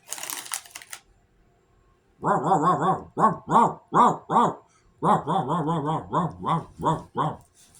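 A person imitates a dog with a series of close, voiced yips and barks, some in quick bursts and others spaced apart, near cats.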